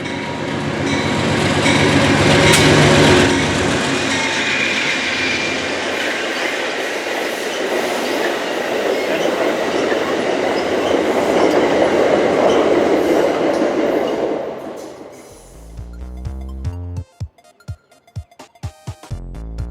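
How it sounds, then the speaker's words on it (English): An Amtrak Maple Leaf passenger train roars past close by, a loud sustained rumble of wheels on rails that fades as the cars clear, followed by scattered clicks and knocks. "Amtrak Maple Leaf. 103."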